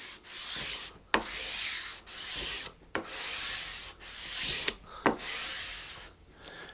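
Guitar frets being sanded with 400 grit sandpaper on a flat block, producing a rhythmic series of close, hissing back-and-forth strokes, about seven passes separated by brief pauses and light taps.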